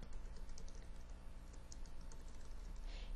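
A computer keyboard being typed on to enter a query into a YouTube search box: a quiet, steady run of light key clicks heard alone with no talking.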